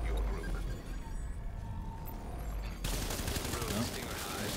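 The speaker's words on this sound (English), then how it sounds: "Look at this, grenade after grenade, and they're shooting him." Grenade blasts and steady gunfire in The Division, a continuous dense barrage at moderate level, with a sharper, brighter burst of shooting in the last seconds.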